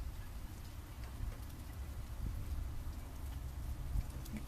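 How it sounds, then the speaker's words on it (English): Rain falls steadily outdoors, a soft, continuous patter and hiss that stays fairly faint and even throughout, with no voices over it. "it's raining pretty harder now"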